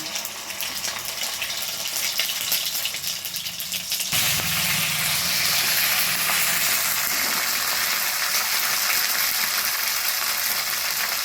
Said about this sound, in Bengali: ফোড়নটা একটু ভাজা হয়ে গেলে এবারে দিয়ে দিচ্ছে আদা বাটা